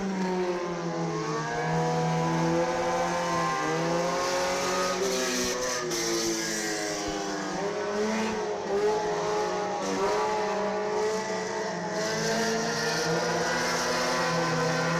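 Pure Stock 4-cylinder race cars at County Line Raceway, a loud, continuous engine drone with shifting revs as several cars circle the track together, heard from near the track with no voices.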